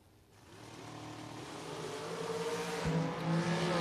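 A dragster at a drag strip builds in roar as it launches, the engine growling louder over a few seconds with a sharp rising note near the end, heard from some distance without speech.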